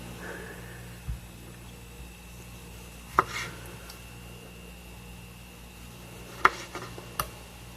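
A knife slices a hamburger on a cutting board, giving a few sharp, separate chops at wide, uneven gaps over a quiet kitchen background with no talk.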